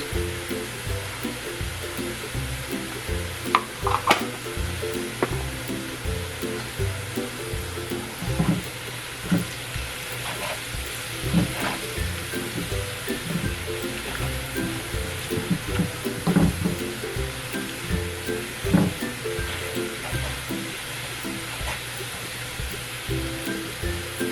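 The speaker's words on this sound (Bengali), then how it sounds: "পেঁয়াজটা ভাজা ভাজা হয়ে গেছে" Onions frying in a pan with salt for a Bengali prawn dopiaza, a faint steady sizzle running throughout with scattered light scraping and stirring clicks, close but quiet, with no voices.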